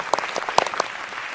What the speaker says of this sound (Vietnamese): vỗ tay chúc mừng ba Đạt